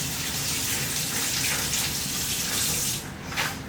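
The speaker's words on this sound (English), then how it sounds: "I will go rinse off my hands" Tap water runs steadily into a sink while hands are rinsed, a continuous close hiss and splash that dips briefly near the end.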